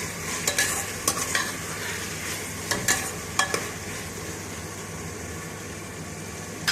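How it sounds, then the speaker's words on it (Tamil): Chickpea biryani is stirred in a cooking pot over a steady low sizzle, with several scraping, clattering stirs clustered in the first few seconds and then quieter simmering, close by and with no talking. "நல்லா ஒரு 2 நிமிஷத்துக்கு ஒருக்கா கலரி விட்டுக்கிட்டே இருங்க"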